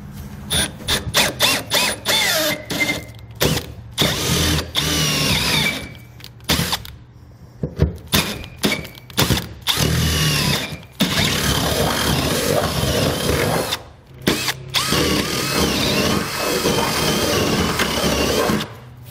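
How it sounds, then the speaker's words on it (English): Loud, whining power drill running in repeated bursts with short pauses between, the pitch wavering as a large bit bites into the metal of a 2021 Ford F-250 Super Duty truck bed. "I'm going to take my larger drill bit and open those completely up."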